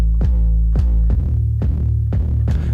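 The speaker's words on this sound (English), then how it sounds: "which we're also using a kick from Subcraft." Heavy distorted 808 kicks from the Subcraft instrument hit about every half second, each a loud pitch-dropping boom over a continuous gritty sub-bass drone, with no voices.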